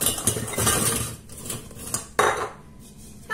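Biscuits tipped into the metal bowl of a kitchen mixer or blender, giving a rattle of clattering pieces followed by a sharp clinking knock against the bowl, close and fairly loud with no talk.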